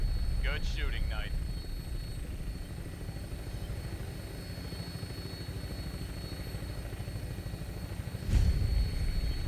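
Vertibird aircraft in the Fallout 4 video game lifting off and flying, a steady loud rotor and engine rumble droning throughout, with a short brighter swell near the end and brief radio-style voice chatter early on.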